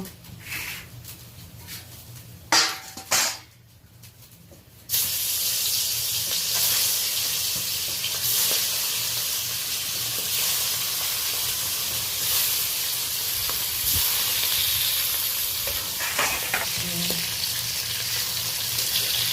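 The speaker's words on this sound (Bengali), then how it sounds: "কড়াইতে তেল দিয়ে দিয়েছি কিছুটা পরিমাণ তেলটা গরমও হয়ে গেছে আস্তে আস্তে আমি মাছগুলো ভেজে নেব" Pangas fish pieces are lowered into hot oil in a wok; after a few clatters and brief quiet, a loud, steady sizzle erupts and keeps hissing continuously, close by and without talk.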